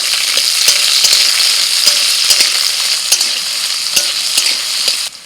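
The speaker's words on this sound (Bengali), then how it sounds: "তেলের মধ্যে কাঁচা টমেটো মিনিট 2-3 একটু ভেজে নিয়েছি" Green tomato frying in hot oil with black mustard seeds and dried red chili, a steady bright sizzle with repeated stirring scrapes and clacks of a spatula, close and loud, no voices.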